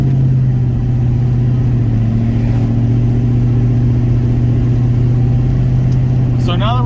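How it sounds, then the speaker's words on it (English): An OBS-era truck cruises down the road, its engine holding a steady low hum and drone inside the cab at constant speed, loud and unbroken, with a few faint squeaks near the end. "So now that we're just cruising down the road, I've got plenty of air flow through the radiator."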